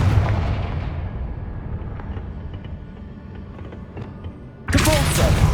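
Confringo fire-blast spell explosions in Hogwarts Legacy: a heavy booming blast at the start that rumbles away, then another sharp burst near the end, with a voice briefly heard.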